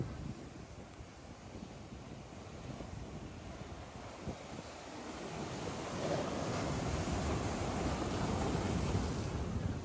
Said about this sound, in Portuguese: Mas a água tá vindo muito forte, olha só.